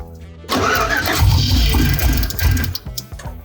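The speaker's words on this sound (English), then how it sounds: "Start it again." A turbocharged truck engine cranks and catches nearby, running loud and rough for a few seconds before cutting back, with no talk over it.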